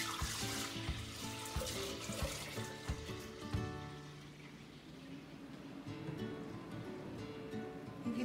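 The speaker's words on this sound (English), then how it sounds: "Take the cooled off milk and pour it into your Instant Pot." Cooled milk is poured into an Instant Pot to make 24-hour SCD yogurt, giving a steady, close liquid stream that runs for several seconds with small splashes and no talk.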